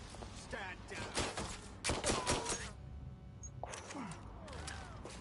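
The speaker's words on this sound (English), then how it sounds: "They're shooting." Gunfire in the open-world game Watch Dogs: Legion, quiet bursts of rapid shots and clattering cracks arriving in clusters, mixed with faint voices and game noise.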